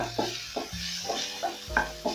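Ginger sizzling in a cooking pot for beef and peas stew, a continuous frying hiss with recurring soft stirring scrapes and clinks, close and fairly loud.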